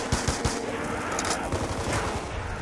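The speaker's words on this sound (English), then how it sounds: "I shot the guy's knee and he died." Gunfire in the video game Call of Duty Zombies, a loud, dense burst of rapid automatic shots with overlapping bangs filling the whole moment, no talking over it.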